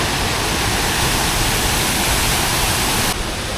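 The powerful torrent of Khun Korn waterfall roars loud and close, a continuous dense rush of falling water with no voices, holding steady for the full few seconds.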